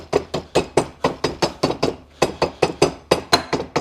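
Rapid, evenly spaced taps of a soft rubber mallet striking metal during a Mercedes E55 AMG differential rebuild, about four per second, close and crisp with a brief pause midway.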